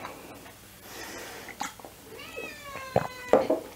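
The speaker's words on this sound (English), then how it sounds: "Hey Kitty, you're making noise here." A cat meows a few times nearby, short rising and falling cries with some rustling and faint background noise between them.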